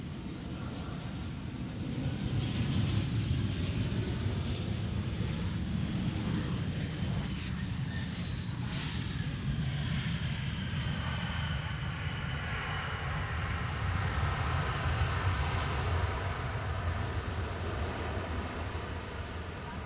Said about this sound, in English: Welcome to Austin Bergstrom International Airport